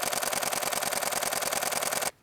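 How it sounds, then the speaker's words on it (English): A Canon 7D Mark II DSLR shooting a 10 frames per second burst gives a fast, steady, machine-like chatter of about twenty shutter clicks, close and loud, cutting off sharply after two seconds. "And this is what 10 shots per second sounds like on the Canon 7D Mark II."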